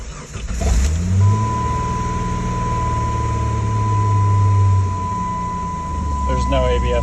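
A 1996–1998 Jeep engine cranks and catches, then settles into a steady low idle rumble with a constant tone above it, and a short burst of voice near the end.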